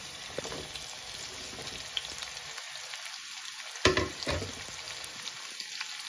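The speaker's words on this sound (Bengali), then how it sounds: "এই যে এখন আমি কারকুলটা ছাড়িয়ে দিব, ছাড়িয়া একসাথে মশলা দিয়া সাতলানো বয় দিব।" Teasel gourd frying with spices in a pan, a soft steady sizzle with a few sharp clinks of a utensil against the pan, one louder knock near the middle, heard close and without talk.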